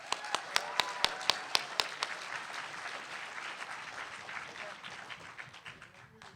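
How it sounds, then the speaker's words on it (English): Audience applause at a comic convention panel starts with a few sharp, close individual claps, then swells into a wash of clapping from the crowd that gradually fades, fairly quiet overall. "Let's give him a big round of applause."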